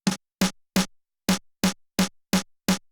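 A snare drum saturated by the Decapitator plugin, gritty, strikes repeatedly in a steady rhythm, about nine crisp hits with short silent gaps, close and punchy.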